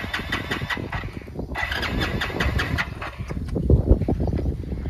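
A motorcycle fitted with two connected silencers is cranked over in a starting attempt, with rapid rhythmic clattering pulses, a short pause, then rougher, louder chugging firing close by, with no talking.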